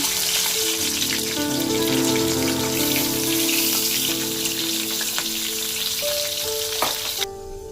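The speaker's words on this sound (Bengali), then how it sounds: "মাছের মাথাগুলো ভেজে নেব" Fish heads frying in mustard oil in a wok crackle and sizzle loudly and steadily, with sustained tonal sounds running underneath, before the sound drops off abruptly near the end.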